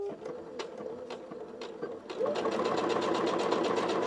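A sewing machine stitches the loop of a small fabric holiday stocking, first in short stop-start bursts, then a steady fast rhythmic whir, close and loud.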